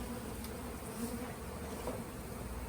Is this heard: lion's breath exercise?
no